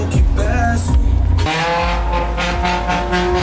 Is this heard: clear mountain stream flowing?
no